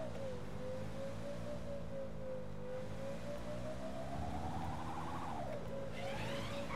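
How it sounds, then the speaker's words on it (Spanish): A steady, droning car engine in GTA 5 Online with a smooth synthetic tone that rises gradually in pitch, then drops back, running continuously without any talk. "¿A que mola el sonido del coche?"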